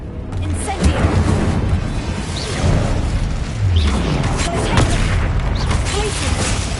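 A fire spell cast in a Harry Potter video game bursts out as loud, dense booms and whooshing blasts that run continuously through combat noise, with a voice briefly heard over it.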